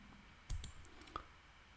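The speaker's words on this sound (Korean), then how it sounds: "오른쪽 마우스 클릭." A single sharp mouse click, then a second fainter click a moment later, against a quiet background.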